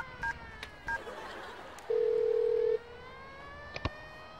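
Phone line tones while a mother phones the father about a child taken to hospital: a few brief beeps, then a steady sustained tone for about a second, followed by two short clicks, fairly quiet with no talk.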